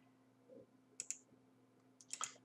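Faint, quiet clicks of typing on a computer keyboard come in two short bursts of a few keystrokes each over a low electrical hum.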